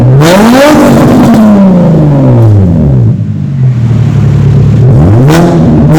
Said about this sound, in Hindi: अब गाड़ी का साउंड चेक करें।